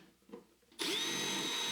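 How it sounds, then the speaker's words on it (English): After a brief quiet start, a power drill bores a hole into a wall for a shelf anchor, its loud steady whine starting abruptly and running close and continuous to the end. "Drill the bottom holes and install anchors."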